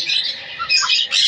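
A lovebird at a bird market gives loud, shrill squawks close by, in three harsh bursts with brief gaps.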